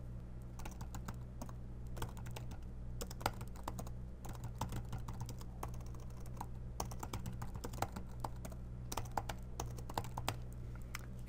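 Computer keyboard typing with steady, fast keystrokes over a constant low hum, without talk.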